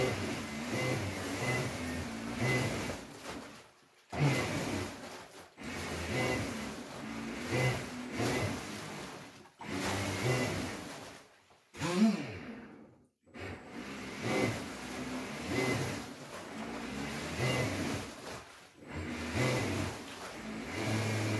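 A 3D printed jet drive powered by a Milwaukee M18 battery tool runs in loud whirring bursts, revving up and easing off with several short silent pauses between runs.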